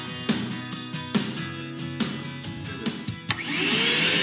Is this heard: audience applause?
no